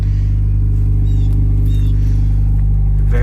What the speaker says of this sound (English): Very subtle exhaust.